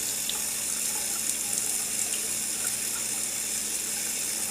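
Tap water runs steadily into a sink to rinse and fill a green onion stalk while kimchee ingredients are prepared, a continuous hissing gush held at an even level throughout with no voices.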